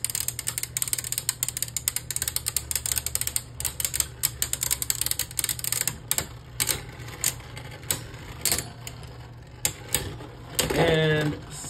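Beyblade Burst spinning tops, a Cyclone Ragnaruk against a Cyclone Roktavor, clash in a plastic stadium with a dense run of rapid clicking, rattling impacts and a steady whirring hum, ending in a brief scraping skid.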